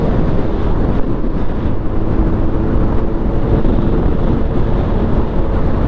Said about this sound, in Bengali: এই সময় হাওয়া প্রচুর হয় আর হাওয়াতে বাইক ডিসব্যালেন্স হয়ে যায়